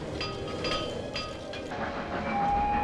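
A train rolls steadily along the rails, a loud continuous rumble with rhythmic clatter and a high whine, illustrating the Trans-Siberian Railway.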